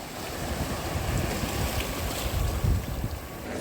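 Sea waves break steadily against a rocky shore on the Odesa coast, a broad continuous wash of surf mixed with wind noise, close and fairly loud.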